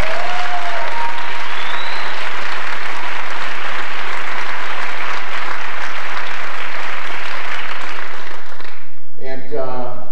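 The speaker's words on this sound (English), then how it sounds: "Please give them a nice round of applause." Sustained applause from a large crowd at The Music Hall in Portsmouth, New Hampshire, loud and dense for about nine seconds, then breaking off abruptly as a voice begins.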